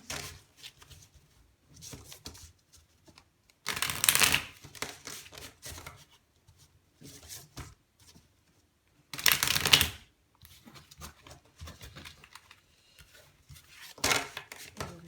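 A deck of tarot cards is shuffled in three short, crisp riffling bursts separated by quiet pauses, with faint handling sounds in between.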